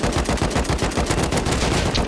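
Sustained full-auto AK rifle fire in the survival game Rust, a dense rapid stream of loud shots with no pauses, close and dominant.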